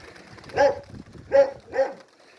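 Three short, soft coos from Kherson pigeons kept in the Kyiv region, evenly spaced and close by against a quiet background.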